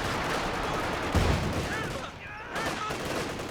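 Artillery barrage firing in the Company of Heroes 2 video game: continuous booming gunfire with a heavier blast near the middle, steady and loud throughout.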